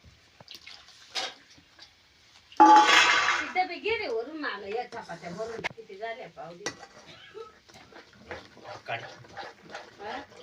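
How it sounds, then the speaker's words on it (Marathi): Besan pithla batter thinned with water is stirred in a cooking pot, giving scraping, clinking strokes of a spoon against metal. A voice talks over much of the stirring. "आता एवढं पाणी टाकलं ना आपल्याला व्यवस्थितपणे हलवून घ्यायचं ते"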